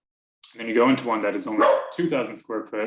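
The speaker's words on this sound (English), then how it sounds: "that's my dog" A pet dog barks repeatedly indoors in a home, several sharp close barks overlapping a person speaking.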